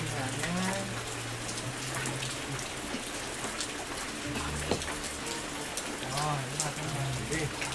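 Steady rain falls outside a house, a dense, even patter that runs throughout while people talk nearby.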